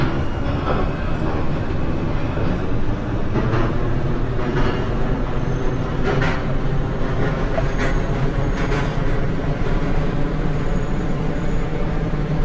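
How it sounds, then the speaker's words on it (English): An R160 subway car on the L line in the OpenBVE simulator, running with a continuous loud rumble and roar of wheels and motors and brief rattling bursts, no voices over it. "is a Brooklyn-bound L train"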